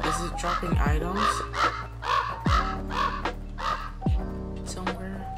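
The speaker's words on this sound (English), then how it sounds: "I do hear a couple of crows though" Several harsh crow caws repeat at a steady pace over a layered soundtrack in the video game Pumpkin Panic, fairly close and loud, with a faint voice now and then.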